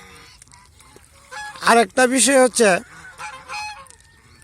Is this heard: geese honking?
yes